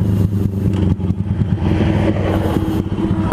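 A motorcycle engine running close by, a loud steady low rumble with a thrumming, slightly clattering texture throughout, no voices over it.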